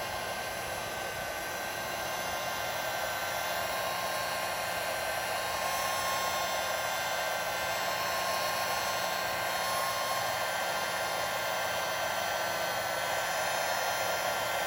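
Hot air tool blowing steadily on its low fan setting at roughly 550 to 650 degrees Fahrenheit, drying wall texture in high humidity; an even, continuous whooshing hiss that runs unbroken and fairly close throughout.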